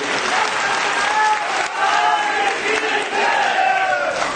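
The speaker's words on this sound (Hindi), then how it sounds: "इसलिए जोरदार ताली बजाएं" Loud, sustained applause from a large crowd at an awards ceremony, dense clapping that swells and continues steadily throughout.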